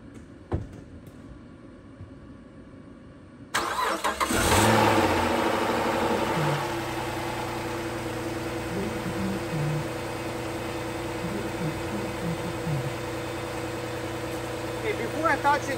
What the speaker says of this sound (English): I mean, my car's not on. Maybe it needs to be on.